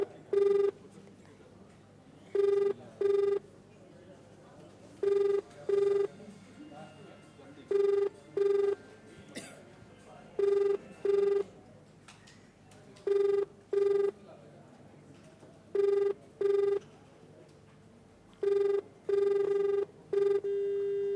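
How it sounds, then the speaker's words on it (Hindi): A telephone rings on an unanswered call, giving regular paired electronic rings that repeat steadily at moderate volume over faint background hum. "बेल ज़रूर यहाँ पर जा रही है, घंटी बज रही है"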